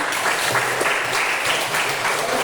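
A classroom of students clapping their hands together on a teacher's prompt, a dense, steady patter of many claps filling the room, moderately loud and fairly even throughout.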